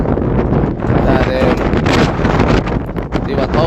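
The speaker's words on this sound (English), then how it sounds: "It's too fucking windy." Strong outdoor wind buffets the microphone in heavy, roaring gusts that swell and dip continuously, with muffled voices partly buried underneath.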